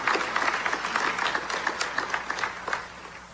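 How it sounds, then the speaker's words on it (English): An audience at the 2018 U.S. Merchant Marine Academy graduation ceremony applauds steadily for an international graduate, a dense round of clapping that fades slightly toward the end. "Please join me in a round of applause for our international graduate."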